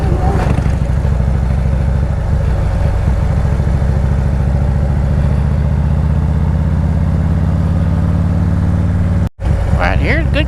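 A motorcycle riding along a mountain road through fall colors, its engine droning steadily and close with a low rumbling hum, then a brief dropout near the end followed by wind buffeting.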